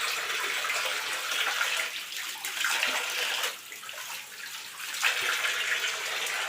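Water gushing from a tap into a bathroom, a continuous loud splashing rush that dips briefly in the middle before surging back, close by and uninterrupted by speech.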